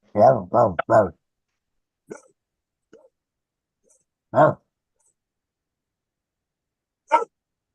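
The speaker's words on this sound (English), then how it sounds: "I don't know what she's barking at." A dog barks three times in quick succession, then gives a few faint yips, one more sharp bark, and a final short bark after a pause.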